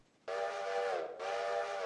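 Passenger train whistle in the Railroader video game, one long loud steam-style blast that dips briefly and then sounds again, alone with no talk.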